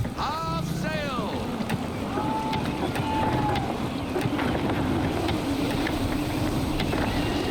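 A sailing ship in gusty wind in Assassin's Creed 3, with rushing wind noise and creaking hull under steady sea wash, while voices briefly call out over it.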